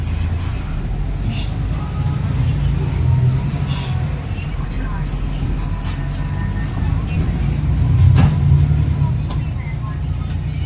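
Inside a moving bus, a continuous low engine rumble and road drone fill the cabin at a steady level while people talk nearby.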